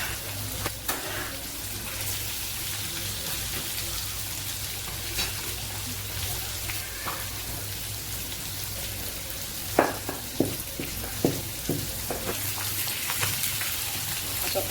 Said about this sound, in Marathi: इथे मच्छी फ्राय चालू आहे